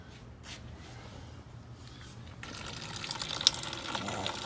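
Coolant suddenly starts pouring from the radiator of a Hyundai Genesis Coupe 2.0T, a soft steady gushing trickle of liquid that begins midway after quiet handling noises.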